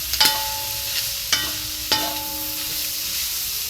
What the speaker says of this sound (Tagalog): Lagyan din natin ng pork cubes. Saka haluin.